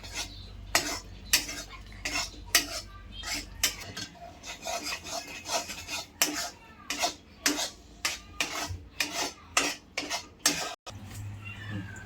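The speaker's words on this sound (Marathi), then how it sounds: "गुळ विरघळला आहे आता आपण एक दोन मिनटं अजून परतून घेऊया" A utensil scrapes and stirs melted jaggery syrup in a pan for peanut chikki, with rhythmic scraping strokes and clinks against the metal, close by and without speech.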